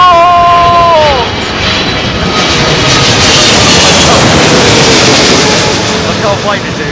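An airliner lands at windy Heathrow Airport, its engines roaring loudly and continuously close by, with automated cockpit warning callouts heard early on and gusty rumble throughout.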